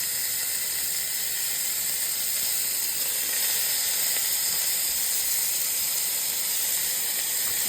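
Ground beef hits a hot cooking pan for shepherd's pie, giving a steady, loud, even sizzle and hiss that carries on without a break and with no voices.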